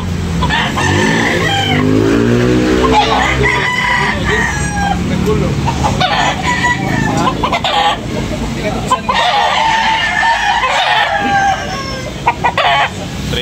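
At a chicken market in Tabunok, Talisay, a rooster lets out a loud, close crow, with clucking and other birds calling around it amid market bustle.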